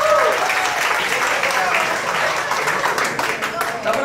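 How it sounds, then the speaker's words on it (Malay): An audience claps and applauds steadily at a seminar, a dense, loud wash of many hands throughout, with a voice faintly heard at the start. "Bagi tepukan pada kami."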